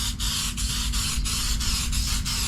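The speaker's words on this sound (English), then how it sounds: "I'm just going to lay some spray down." A spray can lays a coat of paint onto a part for a Mopar Dodge big-block race car, heard as close, loud hissing bursts broken by short regular pauses.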